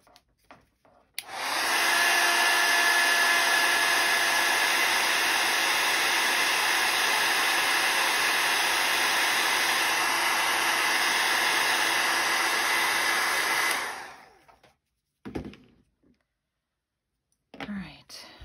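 A hair dryer blows on handmade book page charms, a loud steady whooshing roar that runs unbroken for about twelve seconds, then stops, followed by a few faint handling clicks.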